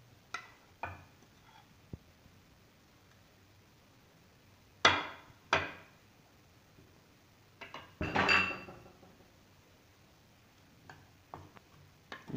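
Spices for restaurant-style chicken tikka are mixed in a bowl. Sparse clinks and scrapes of a spoon against the bowl ring out between quiet gaps, with one longer scraping burst near the middle. No one speaks.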